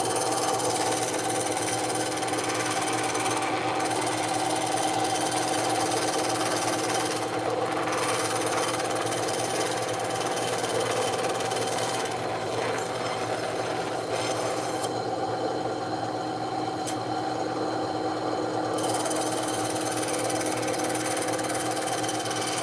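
A power tool cuts eye-visor openings in an EVA foam Mandalorian helmet with a continuous, loud, buzzing grind that runs unbroken throughout, dipping slightly in a few places.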